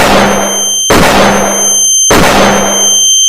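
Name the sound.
gunfire in a Roblox horror video game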